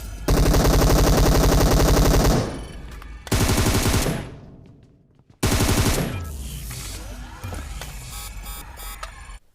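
Rapid automatic gunfire in the mobile battle royale game PUBG Mobile, loud and close, coming in three sustained bursts separated by short gaps, with the last burst fading into scattered shots.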